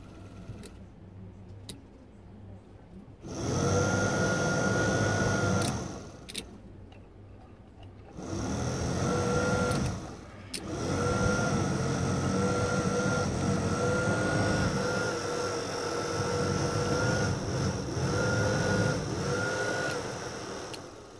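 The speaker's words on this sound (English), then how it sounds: "Very noisy, this fan." Heater blower fan running on recirculate in a 1994 Range Rover with a faulty switch, a steady loud whirring drone with a whiny tone that cuts out briefly twice and returns, running alone without talk.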